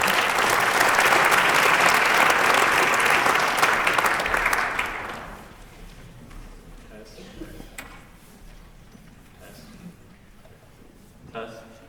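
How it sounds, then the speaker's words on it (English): Dense applause from a school Shark Tank event crowd, loud and sustained for about five seconds before fading, then a quiet room with faint shuffles and clicks. "So give a big round of applause to Cade Blankenship,"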